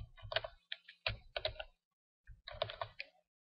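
Typing on a computer keyboard in Windows, a few quick clusters of close key clicks with a short pause between bursts.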